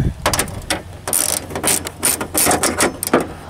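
A ratchet wrench tightens a bolt during a Valkyrie LPB install, giving loud, close bursts of rapid mechanical clicking in short uneven strokes.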